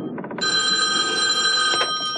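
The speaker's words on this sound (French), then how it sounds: "Il faut quand même que je réponde au téléphone." A telephone bell rings loud and close in one sustained burst of bright, steady ringing lasting well over a second, with no voices over it.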